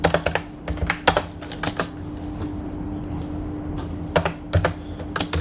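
Rapid typing on a computer keyboard, with bursts of close, crisp key clicks broken by short pauses over a steady low hum, and no voices.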